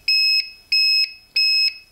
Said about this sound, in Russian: Постоянно издает такие вот звуковые сигналы.